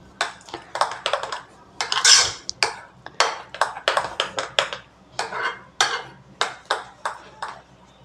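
Batter being mixed by hand in a basin until smooth and free of lumps for malai broccoli, heard as a series of close, sharp clinks and scrapes in an irregular rhythm with no talk.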